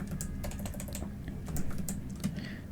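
Fast, steady typing on a computer keyboard while entering SQL code, a dense run of close, crisp key clicks with no talk over it.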